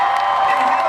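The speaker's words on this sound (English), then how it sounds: "Make some noise for yourselves one time" Audience at a 2015 Harry Potter celebration Q&A at Universal Studios cheering and whooping in a short, dense, steady burst of crowd noise.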